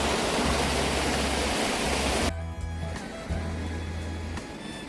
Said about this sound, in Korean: 토지 바로 앞에는 맑은 물이 흐르는 아담한 하천이 자리 잡고 있어서 더욱 운치를 더해주는 것 같습니다.